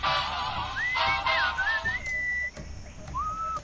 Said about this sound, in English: What is that enchanting whistling sound?